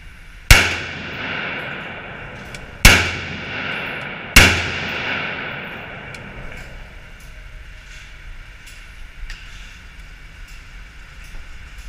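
Three sharp rifle shots from a gun fitted with an EOTech sight ring out outdoors in sub-zero dry-ice cold, spaced about two seconds apart, each one loud and close with a long echoing decay.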